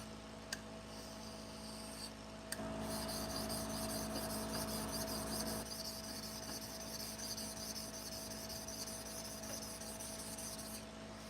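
Pet grooming shears being sharpened on a 1000 grit stone give a steady, continuous rasping rub that grows louder after a short quieter start and holds close and even to the end, with no talking.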